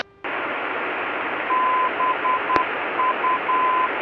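Morse code station identifier tones beeping over aviation navigation radio for a VOR or ILS, a steady high-pitched dashed pattern sounding faintly beneath loud radio hiss, with a brief click midway.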